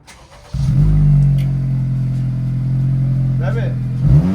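An Acura TLX fitted with a cosmetic dual exhaust starts up with a sudden loud catch, then settles into a steady, close idle drone while brief voices are heard near the end.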